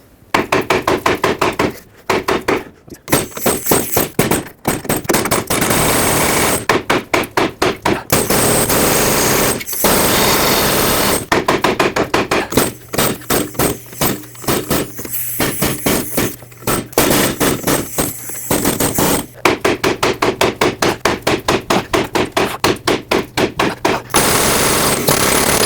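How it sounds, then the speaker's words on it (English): Hammer blows drive a lower ball joint down into the suspension of a Chevrolet Express van, a loud, sharp metallic pounding in rapid bursts of repeated strikes separated by short pauses, close up with no talking. "Now you can grab your hammer and just drive it down."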